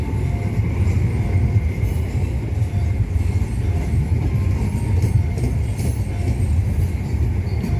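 The Argo Bromo Anggrek passenger train between Jakarta and Surabaya rolls along with a constant low rumble and faint rattling carriage noise, steady throughout and heard from on board.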